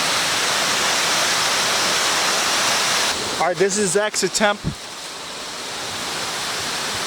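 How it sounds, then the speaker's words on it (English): Wild waterfall in nature, a loud, steady broadband roar of rushing water filling the whole clip, with a voice talking briefly over it midway. "We're approaching close to this wild waterfall in nature"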